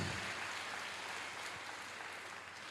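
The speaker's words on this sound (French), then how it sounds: "applaudissement royal" A church congregation at a Thursday evening Baptist service gives a sustained round of applause, faint and distant, holding steady throughout with no talk over it.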